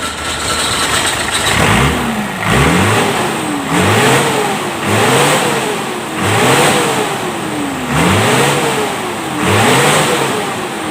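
A Hino diesel truck engine starts and revs repeatedly, rising and falling in about seven loud, regular surges over a steady running idle, with no talk.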